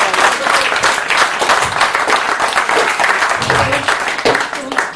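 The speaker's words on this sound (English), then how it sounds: "give me a round of applause" A live stage-show audience claps in a loud, dense round of applause that carries on for several seconds, with faint voices underneath.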